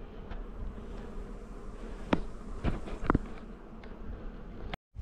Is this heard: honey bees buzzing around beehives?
yes